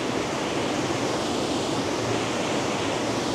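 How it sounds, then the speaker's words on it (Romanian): A waterfall in the Costa Rican jungle roars nearby, a dense, unbroken rush of falling water that fills the whole sound with no voices. "Să simțim așa din plin suflul cascadei."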